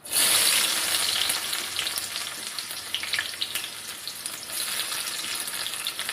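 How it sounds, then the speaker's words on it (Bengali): Chopped onions with a few cumin seeds sizzle and crackle steadily in hot oil in a home kitchen pan, a loud, continuous frying hiss with occasional stirring, no voices. "পেঁয়াজটা আমার ভাজা ভাজা হয়ে গেছে।"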